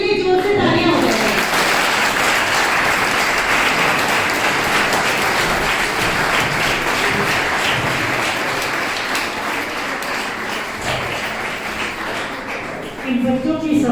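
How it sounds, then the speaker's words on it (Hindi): An audience at a college spring festival gives sustained, loud applause for students who placed in a javelin throw, with dense clapping filling most of the stretch before it tapers near the end. "एक बार सभी बच्चों के लिए जोर से तालियां हो जाएं।"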